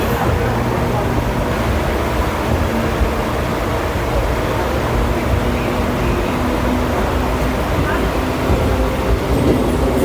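Kolkata Circular Rail local train running from Sealdah toward BBD Bag, heard from inside a nearly empty carriage as a steady, loud rumble and hum with low drones, continuous throughout without breaks.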